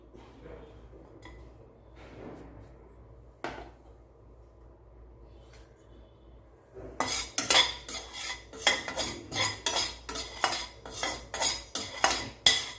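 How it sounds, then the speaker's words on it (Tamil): A spoon stirs ginger roasting in a hot kadai with rapid, loud metallic scraping and clanking in the second half, after a quieter start with a few soft knocks. "நல்ல கடாய் சூடு இருந்தால் தான் இந்த இஞ்சியெல்லாம் சீக்கிரம் வறுக்கணும்"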